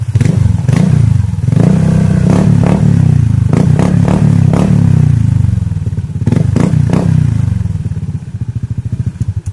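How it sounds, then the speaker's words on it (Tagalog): Honda ADV 160 scooter with an aftermarket full-system muffler run without its silencer, revving loudly and close by in a continuous rough drone, with several sharp throttle blips and crackles throughout. "So sa mga gustong makarinig ng soundcheck mga boss, soundcheck tayo without silencer."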